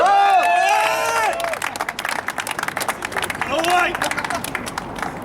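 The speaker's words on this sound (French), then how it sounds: "Les applaudissements" A crowd applauds and cheers briefly while voices ring out over the clapping, which thins into scattered claps.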